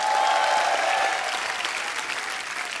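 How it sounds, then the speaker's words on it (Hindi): Studio audience on a television comedy show applauds loudly and steadily, a dense crowd of claps that softens slightly toward the end, with a faint held tone underneath at the start. "जोरदार तालियां"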